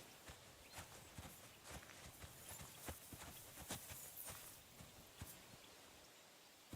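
Horse hooves in Kingdom Come Deliverance 2 clip-clopping at a steady walking pace, a continuous series of soft thuds over several seconds, faint and moderately distant.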